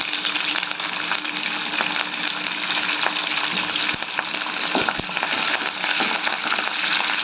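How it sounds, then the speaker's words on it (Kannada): Peanuts, green chillies and curry leaves fry in hot oil with a loud, dense, continuous sizzle and crackle. The pan sits close, and no one speaks. "ಈಗ ನೋಡ್ರಿ ಶೇಂಗಾ ಬೀಜ ಸ್ವಲ್ಪ ಎಣ್ಣೆಗೆ ಫ್ರೈ ಆದಮೇಲೆ ಹಸಿಮೆಣ್ಸಿನ್ಗೇನು ಕಟ್ ಮಾಡಿ ಇಟ್ಕೊಂಡಿನಲ್ರಿ ಅವು ಹಾಕೋತೀನಿ ಹಾಗೆ ಕರಿಬೇವು ಹಾಕೋತಿದ್ದೀನಿ ರೀ"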